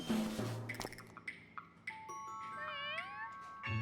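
A cartoon cat meows in a short series of bright, rising and wavering calls, fairly close and clear against a quiet background with a few soft clicks.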